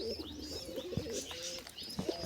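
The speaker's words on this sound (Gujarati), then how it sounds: "તો મિત્રો અહીં કબૂતર બેઠું છે" A pigeon coos close by in low, throaty, repeated phrases with faint chirps around it, and no one talks.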